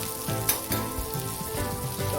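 Oil sizzles steadily in a hot pan under a garlic cheese paratha as more oil is added, a close, continuous crackling fry with a few soft scraping touches and no speech.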